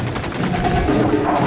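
Rapid gunfire in The Bureau: XCOM Declassified, a dense, loud, continuous volley of overlapping shots with no pauses.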